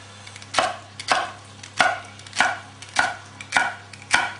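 A kitchen knife chops celery on a cutting board for a roast lamb dish. Seven crisp, evenly spaced knocks are heard close up, and no one speaks.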